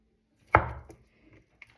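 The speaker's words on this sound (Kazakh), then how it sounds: "Енді 4-5 қылып тураймыз. Бірінші картоп кетеді." A single sharp knife chop through boiled potato on a cutting board for Olivier salad, close and crisp, followed by a faint softer tap and a light click in an otherwise quiet space.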